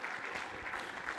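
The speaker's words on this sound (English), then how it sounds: "Give yourself a round of applause." Audience applause at a SQL Server 2025 conference keynote, a brief wash of many hands clapping, distant and soft.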